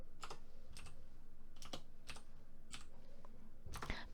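Keys clatter on a computer keyboard during accounting software data entry, about six distinct clicks spaced roughly half a second apart, close and quiet over a low steady room hum, with no talking.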